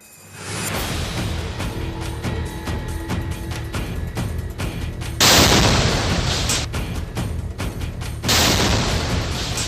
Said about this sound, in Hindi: कटीली तारों पर टंगे झंडे से हुआ ये धमाका सुर्खियां बटोर रहा है।